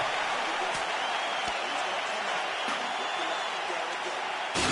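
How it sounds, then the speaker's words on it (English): A UFC 4 arena crowd roars steadily after a round ends, broad continuous cheering with a few sharp claps and knocks on top. "the crowd voicing its appreciation after that round"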